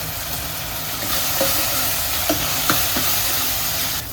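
Red chili tipped into a hot frying pan in a home kitchen gives a steady, close sizzle with a few soft clinks of a utensil against the pan.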